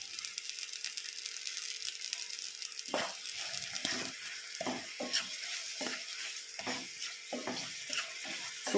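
Krishna tulsi leaves dropped into melted fat, a soft steady sizzle with a series of stirring clicks and scrapes starting a few seconds in.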